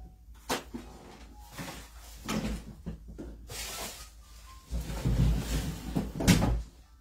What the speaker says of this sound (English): gonna close my door over here because it's kind of getting windy in the window